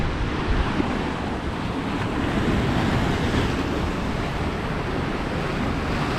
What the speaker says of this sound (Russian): Видели эту волну шикарную?